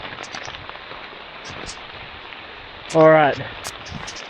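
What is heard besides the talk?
hail and rain falling in the Himalayas, Nepal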